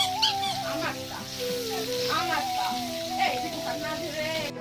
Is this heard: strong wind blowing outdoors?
no